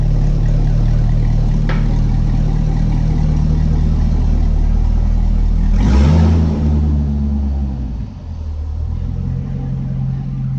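A loud Corvette V8 engine with the stock exhaust cut off rumbles at idle, then revs up sharply around the middle before settling back into a deep, burbling idle.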